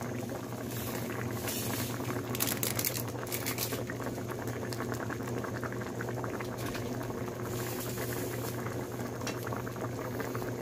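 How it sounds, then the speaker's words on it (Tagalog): Balbacua broth bubbles steadily at a rolling boil in a pot, a dense continuous patter of small pops and gurgles with a low hum beneath, close and even throughout. "kumukulo-kulo na siya mga langga"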